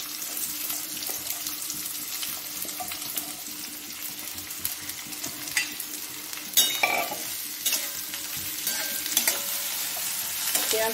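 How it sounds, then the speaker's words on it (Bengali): Sliced onions go into hot oil in a pan for chicken bread rolls and fry with a constant close hiss, while a few louder scraping stirs come in the second half. "এবারে তেলে পেঁয়াজটা দিই।"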